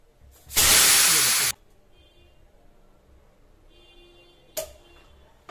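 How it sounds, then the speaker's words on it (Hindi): A loud burst of compressed air rushes out of a compressor pipe that has just been cut loose, a broad hiss lasting about a second, followed by quiet and a brief faint click later on. "तो हमने इस पाइप को काट लिया है। अब एयर निकल गई है।"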